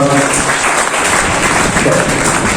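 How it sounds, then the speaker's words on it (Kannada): A crowd at a school alumni association installation ceremony claps loudly and continuously to congratulate newly elected office bearers, a thick, close wash of applause with no gaps. "ಜೋರಾದ ಚಪ್ಪಾಳೆಯೊಂದಿಗೆ ಅಭಿನಂದನೆ ಸಲ್ಲಿಸುವ"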